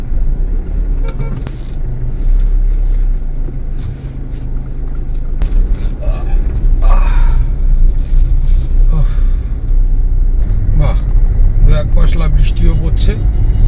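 A car rolling along a rough service lane, heard from inside as a loud, constant low engine and road rumble with scattered bumps and rattles, while a person talks over it.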